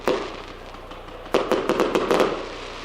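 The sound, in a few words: fireworks going off at a rugby league stadium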